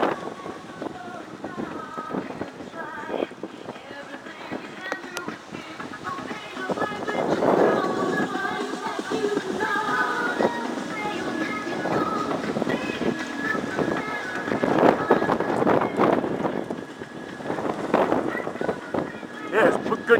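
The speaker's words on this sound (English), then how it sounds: "Yeah, it's a good gust of about 60 miles an hour right there." Strong wind gusting during a dust storm in Phoenix, Arizona, roaring and buffeting the microphone continuously with surging peaks, loud and close, with a voice talking at times.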